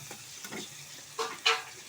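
Onions frying and being stirred for parotta, a soft sizzle with scraping stirs that turn into two sharper, louder clanks near the end.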